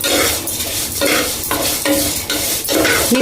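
Vermicelli (semiya) frying and being stirred in a pan, loud rhythmic scraping and rattling of a spoon against metal in rapid sweeps over a light sizzle, very close, no voices.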